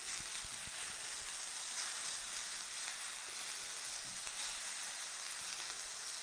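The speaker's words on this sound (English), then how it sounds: "we're getting the other side of the mushroom in contact with this hot pan" Mushrooms sizzling in a hot frying pan, a steady broadband hiss of frying with occasional soft pops and stirring clicks, close and continuous throughout.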